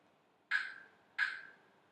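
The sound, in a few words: beatbox snare drum imitation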